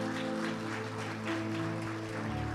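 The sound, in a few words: applause for the Lord in church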